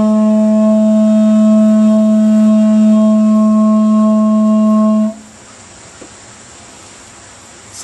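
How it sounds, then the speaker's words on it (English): Didgeridoo overtone played alone, a loud steady buzzing drone with a strong bright harmonic tone held for about five seconds before stopping abruptly into near silence. "So here's the sound of the overtone just by itself."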